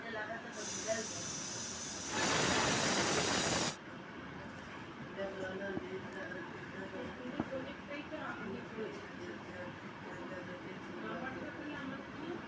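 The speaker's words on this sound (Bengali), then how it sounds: "প্রেসারে একটা সিটি দিয়ে নেব।" A pressure cooker whistle blows while aloe vera simmers with turmeric, bay leaves and cinnamon: a loud, steady steam hiss lasting a few seconds, then cutting off to quiet kitchen background.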